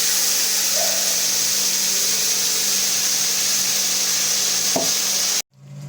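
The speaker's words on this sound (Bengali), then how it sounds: "এবার কড়াইয়ের এই তেলের মধ্যে আমি পেঁয়াজ, লঙ্কা আর টমেটোর যে পেস্টটা ওটা দিয়ে দেবো।" Onion, chilli and tomato paste fries in hot oil in a wok. A loud, steady sizzle runs for several seconds, with a brief utensil knock, then cuts off abruptly.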